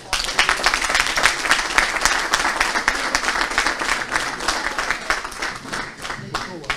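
Applause at a village soup contest in Quiévy, with a crowd clapping briskly and steadily for several seconds as individual claps stand out close by, easing slightly near the end.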